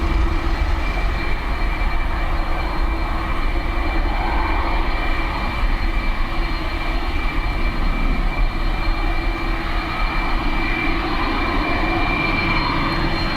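A WestJet airliner departing Dublin Airport for Toronto on a windy, wet day fills the air with a constant, loud jet-engine rumble and roar that holds steady throughout, mixed with wind noise.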